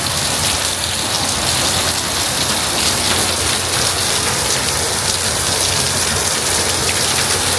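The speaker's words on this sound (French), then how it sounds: "Ah, il pleut de nouveau." Heavy rain pours in Thailand, a dense, constant hiss of drops pounding surfaces close by, loud and unbroken from start to finish with no voices.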